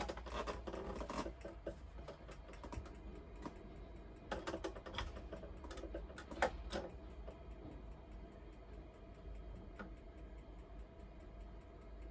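Piezo ignition clicking on the gas heater of an Elddis Majestic 115 caravan: a close run of sharp, irregular clicks over a steady low hum, with no talking.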